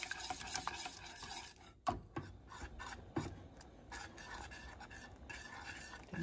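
A spoon scrapes and stirs thick spinach-cheese soup with eggs in a pot, a continuous close rasping swirl with a few sharper knocks against the pot, and no talking.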